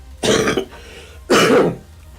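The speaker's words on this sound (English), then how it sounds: "sorry, COVID cough" Two hoarse, forceful coughs from a person with COVID, a second apart, close and loud, with silence between them.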